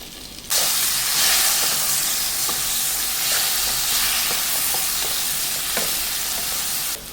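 Jackfruit pieces frying in ghee make a loud, continuous close sizzle with hissing steam, broken by light stirring taps throughout, with no one talking.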